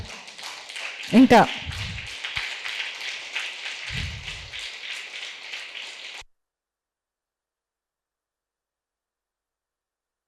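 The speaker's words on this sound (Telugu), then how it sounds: "మరి ఈ అద్భుతమైనటువంటి ధ్యానానికి ఒక్కసారి గట్టిగా చప్పట్లు" An audience at a Buddha Pournami meditation gathering breaks into steady, dense applause lasting several seconds, with a few brief spoken words over it, before it cuts off abruptly into silence.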